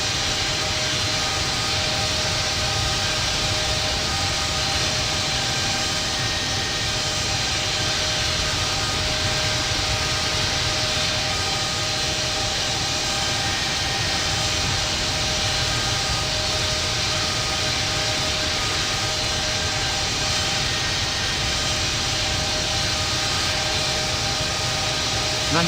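Continuous loud jet engine roar of an airliner taking off in the Infinite Flight simulator, a steady dense drone holding at full power throughout with no talk.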